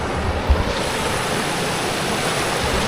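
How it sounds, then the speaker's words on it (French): A large mountain river flows nearby in a steady, loud rush of water, broadband and unbroken, with a faint low thump near the start. "on est arrivé à vraiment une grande rivière avec de l'eau là"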